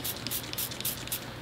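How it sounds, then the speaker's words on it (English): Soapy water is sprayed over a tire tread to find a slow leak: about five quick hissing spray bursts in an even rhythm, close up and with no talking. "You can take your soapy water and just kind of spray it all over the tread."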